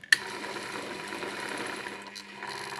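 A homemade drill driven by an old vacuum cleaner motor runs at minimum speed with a steady, even whine and hum after a sharp click at switch-on, close and alone without speech.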